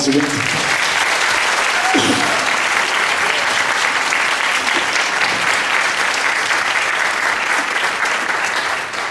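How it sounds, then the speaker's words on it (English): An audience at a live jazz concert applauds the musicians with dense, steady, loud clapping that fills the whole stretch. A voice is briefly heard at the start. "So let's have a round of applause for these guys"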